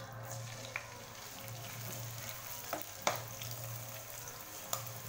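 Chopped onions frying in a pan for chana masala with baby corn, a quiet steady sizzle under a low hum, punctuated by a few crisp spatula scrapes and taps.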